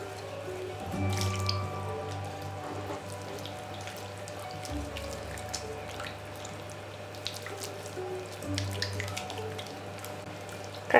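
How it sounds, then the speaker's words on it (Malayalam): Water runs steadily into chicken lollipop batter paste being mixed in a home kitchen, a continuous close trickle with small splashes and no voices. "ഇനി കുറച്ച് വെള്ളം ചേർത്ത് നമുക്കിത് നല്ലവണ്ണം മിക്സ് ചെയ്തെടുക്കാം"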